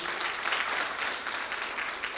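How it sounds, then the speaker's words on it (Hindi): An audience at a kalash yatra religious gathering in Bhopal claps together, a soft, steady patter of many hands heard from some distance with no voices over it. "एक बार जोरदार ताली बजाइए।"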